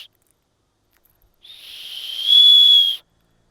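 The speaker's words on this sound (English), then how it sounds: "Also included, we've got a whistle." Emergency whistle from an RV road trip safety kit, one shrill piercing blast that starts soft, swells and cuts off sharply, close and loud with nothing else around it.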